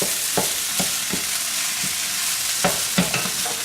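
Chicken fried rice sizzles in a pan while being stirred, with a continuous hiss of frying broken by repeated quick scraping strokes of the spatula at irregular intervals.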